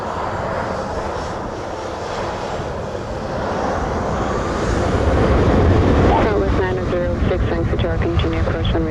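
An airplane on approach to runway 07 at Montego Bay, Jamaica, builds from a broad roar into a louder rumble with a rising engine whine, heard through wind buffeting with muffled voices in the background.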